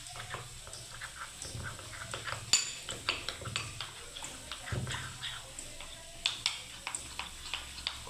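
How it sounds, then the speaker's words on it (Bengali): Custard mix is beaten into warm milk in a bowl, producing rapid repeated metallic clinks and scrapes of a whisk or spoon against the side, fairly quiet and continuous with no talk. "ভালো করে আমি ফেটিয়ে নিচ্ছি"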